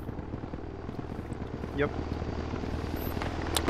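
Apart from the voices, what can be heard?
Russian helicopter flying, from video game Project Reality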